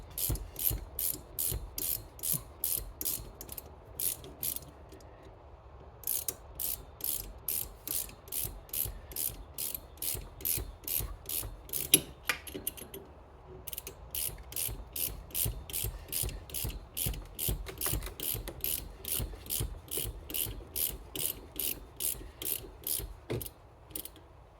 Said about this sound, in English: we need just a ratchet to hold, something to hold it at the top to keep the shock from spinning as we tighten it down